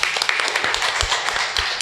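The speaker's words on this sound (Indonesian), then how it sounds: "Tepuk tangan dulu." A seated audience applauds at the close of a talk on youth and law, a dense patter of hand claps filling the room steadily for a couple of seconds with no voices.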